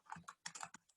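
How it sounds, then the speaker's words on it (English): A short run of soft, quiet key taps on a computer keyboard as a word is typed, a handful of separate clicks heard alone and close. "So I'm just going to type in algebraic"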